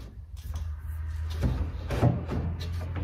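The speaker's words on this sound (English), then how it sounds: "it needs drawer stops put in because it's not landing where it's supposed to" An old wooden dresser drawer slides in with a low rubbing scrape and soft thumps as it seats, close up over a steady low hum.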